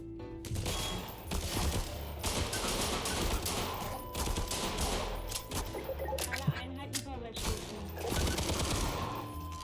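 MP40 submachine gun firing in a World War II trench video game, dense rapid bursts of automatic gunfire that run almost without pause over a busy background, loud and close throughout.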